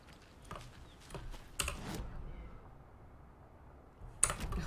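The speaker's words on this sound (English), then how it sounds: "there goes Harrow meowing like her life depends on it" A cat meows several times in short, insistent cries, with a final sharper call near the end, heard close over quiet keyboard tapping and faint background noise while a game is played.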